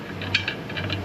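A nut being run up a threaded rod gives a short run of faint metallic clicks and ratcheting ticks, close and quiet with no talk.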